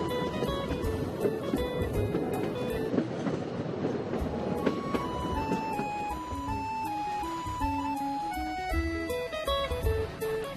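Balagne tramway railcar, an X 97050 diesel unit, running along the seaside in Corsica, a steady rolling rumble of wheels on track with clatter, mixed under tonal music that plays throughout.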